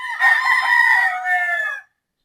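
A single gamefarm rooster crows once, close and loud, a drawn-out harmonic call lasting under two seconds before cutting to silence.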